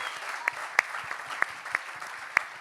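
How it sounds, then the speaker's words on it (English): Sparse, scattered clapping from a small audience at a Night Ranger event, a few sharp distinct claps standing out over a quiet room rather than a full ovation. "All right, gentlemen. You can applaud."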